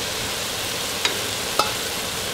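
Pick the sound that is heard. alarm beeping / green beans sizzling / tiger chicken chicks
green beans sizzling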